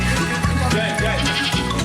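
Stray goats loose in city streets being chased by municipal officers, bleating repeatedly and close by over a dense, busy background.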